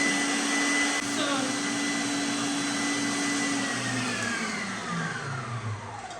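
An electric mixer whipping a sugar mixture for sponge cake, a loud continuous motor whine with shifting pitch as the speed changes, running alone throughout.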